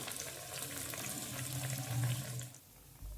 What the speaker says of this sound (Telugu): బ్రెడ్ బ్రౌన్ షేడ్ వచ్చేసరికి సిమ్ మీద మంచిగా డీప్ ఫ్రై చేయాలి.